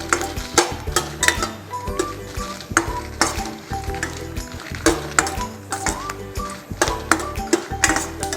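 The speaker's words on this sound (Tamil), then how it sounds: "ஜஸ்ட்டு 1லேருந்து 2 நிமிஷம் லைட்டாக கலர் மாற வரைக்கும் மிக்ஸ் பண்ணாலே போதும்." Dry red chillies roasting in a pan for Andhra paruppu podi, stirred briskly with a spatula that scrapes and clinks against the metal in a steady rhythm over a constant close, loud sizzle.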